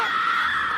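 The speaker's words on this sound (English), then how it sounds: "Listen to everybody scream." Crowd of people screaming on amusement park rides in a cartoon, a continuous shrill wash of many voices held steady and loud throughout.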